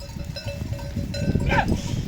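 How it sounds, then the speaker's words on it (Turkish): A flock of sheep on dry pasture near a river crossing, with a faint bleat and the clank of a cowbell over low rumbling wind and ground noise. "Bak koyunları şu araya kadar sıkıştıracağız arkadaşlar."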